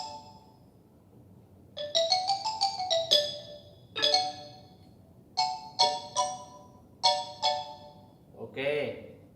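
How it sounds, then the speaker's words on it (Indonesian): A xylophone played in quick bright notes, opening with a rapid run and then separate single and paired strikes with short ringing decays, clear and alone in a quiet room. "xylophone itu bunyinya seperti ini."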